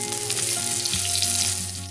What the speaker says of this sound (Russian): И жарим с двух сторон до готовности.